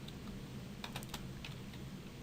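Quiet keystrokes on a computer keyboard, a few soft clicks in a short cluster, faint beneath a steady hiss of background noise.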